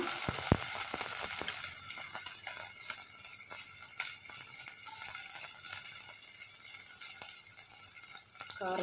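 Steady oil sizzle from sliced onions and spices frying, with occasional stirring scrapes and light clinks, fairly close, no voices.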